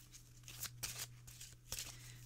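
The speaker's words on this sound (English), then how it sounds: "Let me just keep shuffling then" Wicca oracle cards being shuffled by hand, several quick riffling bursts in an uneven rhythm, close and soft over a low steady hum.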